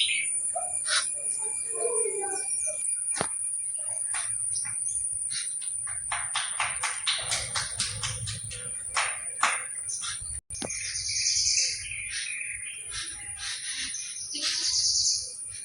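Jungle babblers in a flock keep up harsh, chattering calls, in dense rapid runs and scattered single notes at moderate distance, over a constant background hum of insects.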